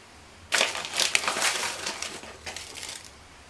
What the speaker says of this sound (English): Sprinkle some sugar over the top of them.